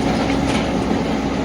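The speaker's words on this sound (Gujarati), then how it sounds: "ટ્રેન આવી" Atal Express toy train running at the Kankaria lake children's park in Ahmedabad, a steady loud rumble of wheels with clickety-clack rolling past close by, continuous for the whole stretch.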